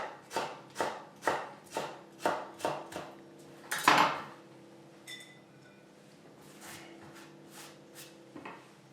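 Knife chopping strips of celeriac on a board in a kitchen: a quick run of eight or so sharp, evenly spaced chops, a louder clatter, then quieter scraping and a final cut.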